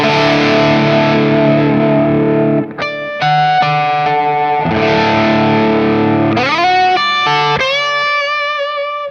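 An electric guitar played through its pickups with mild overdrive rings out in sustained chords and single notes, loud and close, with a brief dip near the three-second mark before more strummed, held chords follow.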